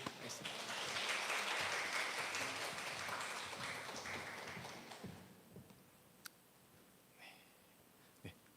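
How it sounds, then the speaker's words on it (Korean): A church congregation at Sunday worship applauds to welcome a visiting pastor, a steady round of clapping that fades after about five seconds, leaving a quiet room with a few scattered sounds. "박수로 같이 한번 맞아주실 바랍니다"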